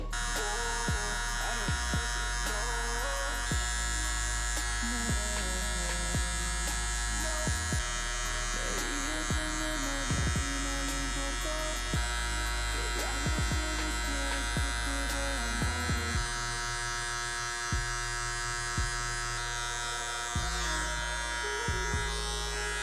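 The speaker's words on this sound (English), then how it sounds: "I'm gonna go ahead and throw on the ½ clip on the clipper" An electric hair clipper with a half guard blends a low fade on a customer in a barbershop. A continuous close buzz shifts in pitch as it presses and lifts in repeated short passes, while a voice talks over it at times.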